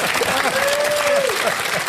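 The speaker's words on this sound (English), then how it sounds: "Now, that's more like what I call applause." A large audience claps steadily through a Christopher Hitchens Q&A, thick continuous applause with a brief whistle-like tone rising above the crowd.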